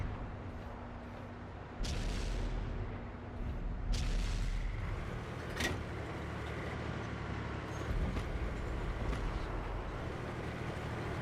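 Tank cannon shots in the video game World of Tanks: several heavy, booming blasts spaced a couple of seconds apart, each with a short rumbling tail, set against a steady low engine and battlefield drone.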